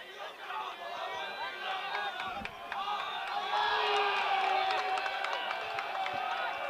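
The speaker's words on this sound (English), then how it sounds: "You can really hear Belmont's bench here just cheering for the defense." Bench players at a Belmont high school boys' varsity rugby match against Hanover cheer and whoop for their defense, a steady crowd roar of shouts and chatter swelling slightly louder midway through.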